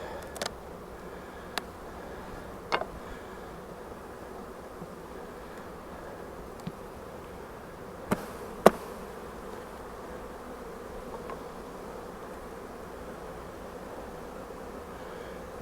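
Honey bees buzzing in the open brood chambers of a hive, a steady low hum throughout with a few faint clicks and knocks of equipment, no talk.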